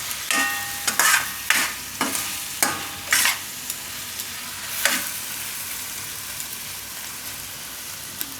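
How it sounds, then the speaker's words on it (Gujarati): Spice masala being stirred into a pan of spinach and brinjal (palak ringna) curry, with a series of sharp scraping strokes in the first half, then a soft, steady sizzle with occasional clinks. "બધો મસાલો આ રીતે મિક્સ કરી લેવાનો."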